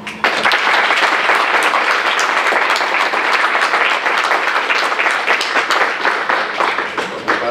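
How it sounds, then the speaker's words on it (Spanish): Sustained audience applause closes the XII Hispano-Mexican research seminar, a dense, steady clapping from a full room that holds at a loud, even level for the whole stretch with no voices on top. "para clausurar lo mejor que podemos hacer es un aplauso"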